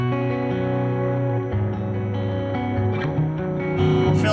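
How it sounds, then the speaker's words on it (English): Sustained electric guitar chords drenched in delay and reverb, notes ringing and overlapping into a thick wash. "Then with some delay and reverb and stuff on there"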